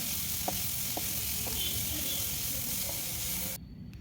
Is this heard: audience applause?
no